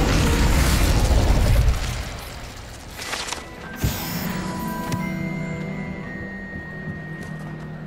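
Fire spell cast in a Harry Potter video game: a loud roaring burst that fades into a sustained crackling rush, with a sharp pop near the middle and ringing magical tones trailing after.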